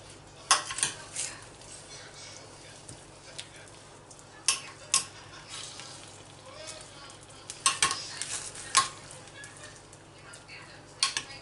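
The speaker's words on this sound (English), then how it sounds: "I'm just going to give that a good stir." Baked Mexican chicken being stirred in an oven dish with the foil off, a spoon giving scattered clinks and scrapes against the dish over a low background, fairly quiet with pauses between strokes.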